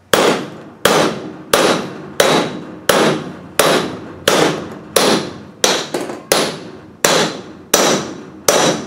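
A hammer strikes repeatedly as a wheel bearing is knocked into place on a Land Rover Defender, Discovery 1 or Range Rover Classic, about a dozen loud, sharp, evenly spaced metallic knocks up close.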